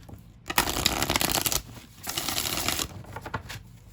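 Oracle cards riffled and shuffled by hand at close range, a dense papery flutter in two long bursts split by a brief pause, then a few soft taps as cards are drawn, with no talking.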